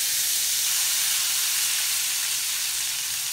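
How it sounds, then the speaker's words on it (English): Squid frying in a pan with olive oil, butter and lemon gives a continuous, even, loud sizzle and hiss throughout, with no voices. "It always does that so you don't worry about if it sizzles a bit."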